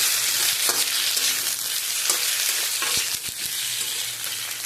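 Prawns frying in a pan with ginger and garlic: a dense, loud, continuous sizzle with occasional stirring clicks, close up and with no talking.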